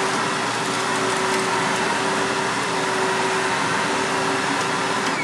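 A vacuum cleaner runs over carpet in repeated passes, producing a loud, constant whooshing roar with a steady motor hum and no pauses or talk.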